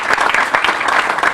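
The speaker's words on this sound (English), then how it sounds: "Let's applaud that." An audience at a ribbon cutting for an affordable multifamily housing development applauds, a steady, loud burst of clapping throughout.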